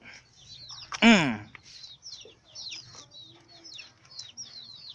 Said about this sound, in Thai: ไก่เล็กหลังบ้าน